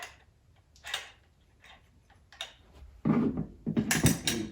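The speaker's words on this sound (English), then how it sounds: "just use a adjustable wrench" Adjustable wrench working loose a tight bit on a DEWALT drywall cutout tool, a few sharp metallic clicks and ratcheting scrapes spaced irregularly, close by, ending in a louder clustered burst of clanking.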